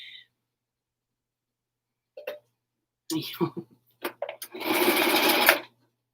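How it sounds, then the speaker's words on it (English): A sewing machine stitches fabric for a helmet cover, starting with a few brief stutters and then running in one steady, fairly close burst of about a second. "This fabric moves every time I start sewing."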